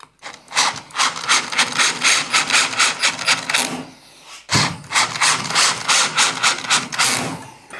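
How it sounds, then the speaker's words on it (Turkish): A screwdriver turns screws into a wooden cabinet door hinge in two runs of rhythmic, rasping strokes, loud and close, separated by a short pause. "Vidaları ondan sonra sıkıyorum"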